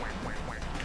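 Duck quacks in the video game Duck Game, several short nasal quacks in quick succession, loud and close.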